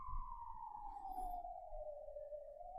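An ambulance siren in Budapest, Hungary, wails as a single long, slowly falling tone, heard at a distance and fairly faint over low background rumble.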